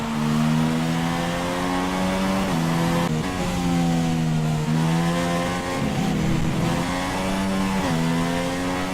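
Formula 1 race car engines from the F1 2016 video game, a loud continuous high-revving whine with repeated gear-shift dips and pitch climbs, several cars close together, no voices.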